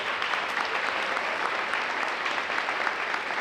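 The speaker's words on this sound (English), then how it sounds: "let's give her a round of applause." A district-event audience applauds steadily, a dense, even wash of many hands clapping throughout, moderately distant and without pauses.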